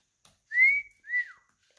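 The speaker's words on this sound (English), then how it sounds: "My husband's whistling at me." A person whistles two clear rising-and-falling wolf-whistle notes, the first longer and the second shorter, close and alone with no talk.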